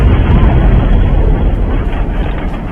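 A loud, sustained explosive roar from a film explosion, with heavy low rumble, continuous for the whole stretch and slowly easing off toward the end.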